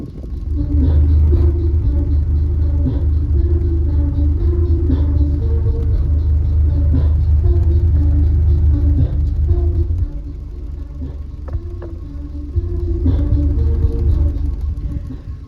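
Heavy subwoofer bass from a Colossal Sounds sub rumbles through a car cabin at a steady, loud level during a flex test, briefly dipping mid-clip before swelling again.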